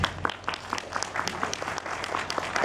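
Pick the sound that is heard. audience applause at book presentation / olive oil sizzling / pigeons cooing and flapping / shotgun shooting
audience applause at book presentation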